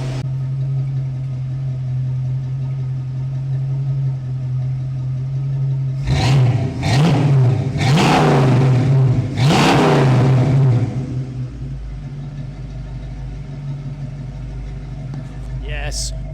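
A V8 Ford Mustang engine idles with a deep rumble, then revs hard several times in quick bursts before dropping back to a steady idle.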